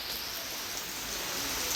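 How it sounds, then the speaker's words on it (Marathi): Steady rain pours down outside a house in rural Konkan, a continuous dense hiss without breaks, with no voices. "पाऊस पडतोय पुरा"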